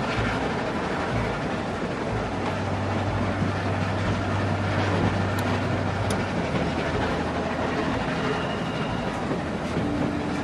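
A moving train in The Walking Dead video game rumbles steadily with a constant low drone and faint rail clatter, heard alone without talk.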